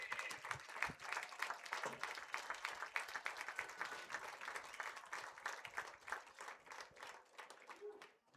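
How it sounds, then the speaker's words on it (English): A large crowd applauds Hall of Fame inductees at a Kansas vs. Missouri high school football all-star game, a dense, steady wash of clapping that carries on for several seconds before trailing off near the end. "one more big round of applause for this year's Hall of Fame"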